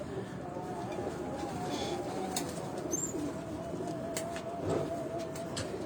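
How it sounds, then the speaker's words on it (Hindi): Breeder pigeons in a cage coo softly and steadily at a distance, with faint chirps and low background noise throughout. "ये सारे जितने भी ये कबूतर हैं ये आपको ब्रीडर कबूतर उनके नजर आ रहे हैं।"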